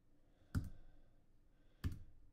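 Two crisp computer mouse clicks, about a second apart, close and quiet in a calm room while working in printer firmware software.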